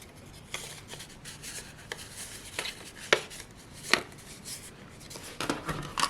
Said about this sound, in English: I'm simply going to fold on those score lines.